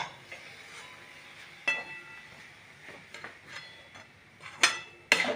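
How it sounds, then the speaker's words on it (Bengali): Roasted semolina being stirred into a coconut and sugar syrup, with soft scraping and irregular clinks of a spoon against the pan, quiet and close, sharper knocks near the end. "আগে থেকে করে রাখা ওই নারকেলের পাকটার মধ্যে সুজিটা আস্তে আস্তে ঢেলে দেওয়া হলো। ঢেলে দিয়ে ওটা ভালো করে নাড়বো।"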